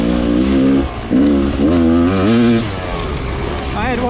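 A Rieju 300 carbureted two-stroke dirt bike engine revs loud and close, its harsh pitch rising and falling through sharp throttle blips while someone talks over it.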